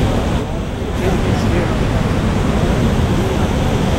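A big waterfall pours over a high cliff, a steady, loud broadband rush of falling water that holds even and unbroken throughout.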